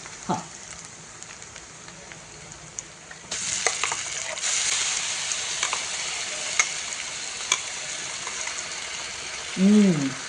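Onion sizzles in hot oil in a pan as a ground paste is stirred in for a spicy Maharashtrian amti, a steady crackle that swells louder partway through, with brief scraping and a short voice near the end.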